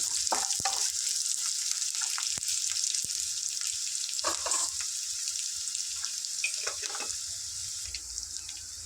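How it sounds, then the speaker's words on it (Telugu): Sliced onions and green chillies frying in oil in a pan for a bottle gourd curry, a steady close sizzle with faint clinks of a spatula, no talking. "ఆనియన్స్ మిర్చి చక్కగా ఫ్రై అయ్యాయి"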